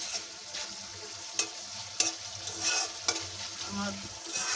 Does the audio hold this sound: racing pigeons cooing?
no